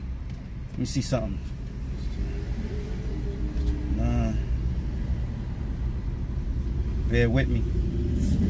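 A car rolls along with a steady, low road and engine rumble throughout, while someone talks briefly over it.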